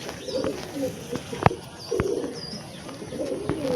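Malbai and Punjabi pigeons coo in soft repeated phrases at close range, with occasional sharp clicks or wing flaps over a steady background hum.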